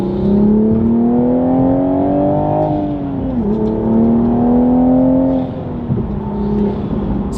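A 2023 Toyota Supra with a 6-speed manual, bolt-on mods and an AW exhaust revs loud and close, its engine note climbing through gears with a brief dip and shift near the middle and another toward the end.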